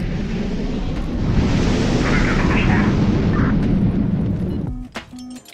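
Cruise missiles and machine gun fire in the naval strategy game HighFleet, heard as a loud continuous roaring rumble of fire and blasts that cuts off sharply near the end, followed by brief electronic tones.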